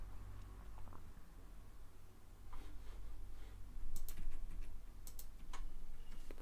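Fingers tap on a computer keyboard in quick, uneven bursts of clicks, fairly close but soft, over a steady low hum.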